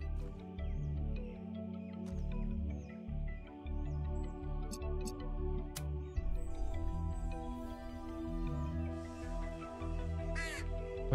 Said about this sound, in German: Mann, was ist denn hier mit den Krähen los?